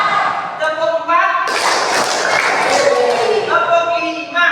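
Pupils clap the fourth numbered routine together, a long close burst of many hands lasting about two seconds, with voices chanting in unison at the start and end.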